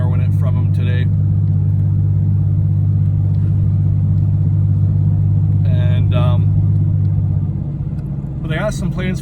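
Constant low engine drone of a 1990 Oldsmobile Cutlass Supreme driving, steady throughout, with brief bits of voice or cabin sounds over it and a slight drop near the end.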